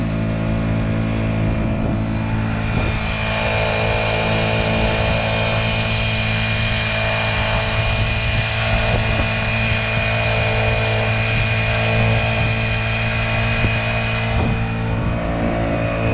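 A Honda GX50 50cc two-horsepower outboard motor running steadily on a Nucanoe Pursuit, a loud, constant buzzing drone at close range that holds an even pitch throughout with no pauses.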